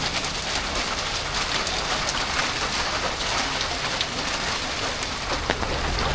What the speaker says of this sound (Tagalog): Grabe, lumakas na naman po ulit ang ulan.